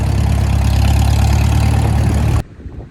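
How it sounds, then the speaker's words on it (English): A farm tractor idles as it warms up after refueling on a harvest day, a loud steady low rumble that cuts off abruptly near the end, leaving faint background noise. "The tractor's warming up, fueled up."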